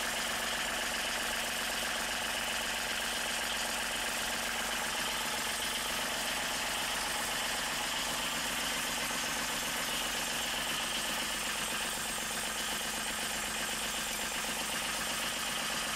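A Yanmar 2310 mini tractor engine runs continuously after hydraulic repair and filter change, a steady idling drone with fine rhythmic knocking, close and even throughout with no voices.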